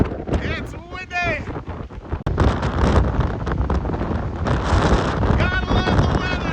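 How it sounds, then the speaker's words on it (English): Strong gusting storm wind on a sea cliff over angry winter waves, roaring loudly and buffeting the microphone in heavy bursts, with a voice talking briefly at the start and again near the end. "It's windy."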